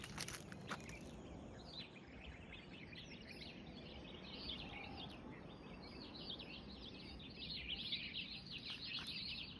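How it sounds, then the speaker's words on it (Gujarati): Soft, rapid house sparrow chirps repeat through an outdoor farm ambience over a low, steady rumble, the calls somewhat distant and continuous. "ચકલીનો જો અવાજ આવે છે"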